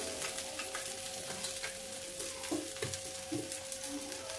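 Coated leftover-rice snack frying in a pan over a low flame, giving a steady close sizzle with soft crackles and a few louder spits, no talking.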